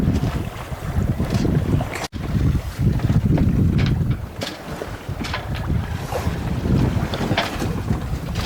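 Sailboat under way off Milford Haven in very light winds, with steady wind buffeting the microphone and water washing along the hull, loud and continuous with no talking.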